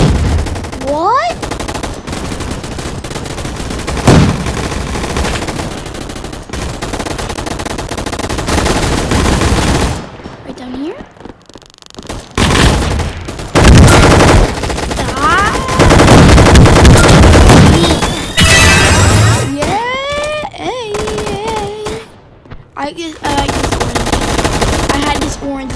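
Video game gunfire fills a gun fight arena, with dense bursts of rapid automatic shots and weapon effects running almost continuously and loudly, broken by brief gaps.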